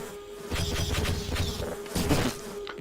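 Buzzing bees in the PS2 version of Half-Life, a close droning insect hum swelling in uneven waves with a few thuds.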